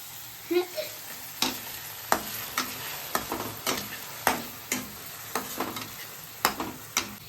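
Ground masala paste for crab pepper dry fries in a hot kadai with a steady sizzle, broken by a series of sharp stirring scrapes and knocks that come at irregular intervals. No one speaks.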